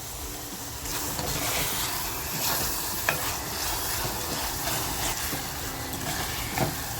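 Onion fries and sizzles in a pan, a steady close hiss with occasional stirring scrapes and small clicks over about seven seconds, with no talking.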